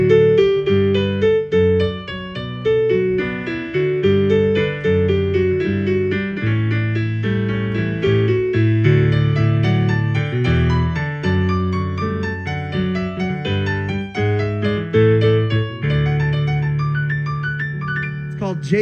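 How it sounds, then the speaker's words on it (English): A piano plays Bach's Jesu, Joy of Man's Desiring without the sustain pedal, a flowing stream of clear, evenly paced notes over a lower accompaniment, close and steady throughout. "Jesu joy of man's desiring. Have you heard that melody before? It's a beautiful melody."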